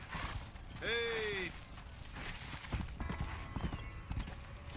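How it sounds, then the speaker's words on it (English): Horse hooves clip-clop steadily in the Red Dead Redemption video game, mixed with a short neigh near the start and ranch background sounds, while voices talk over them. "Hit your horse and wait for me by the stable."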